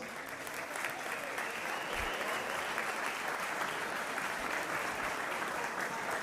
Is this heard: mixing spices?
no